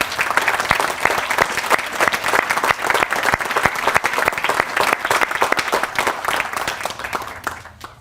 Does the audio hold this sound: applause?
yes